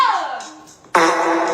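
A loud, close, buzzy fart-like sound made with a microphone held up to it, one descending blast then a second sharp burst that holds steady.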